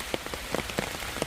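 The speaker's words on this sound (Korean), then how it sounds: "또 비가 오면 물방울 보십시오" Rain falls on a surface with scattered drops striking in an irregular patter, each tap distinct over a soft steady hiss; no voices.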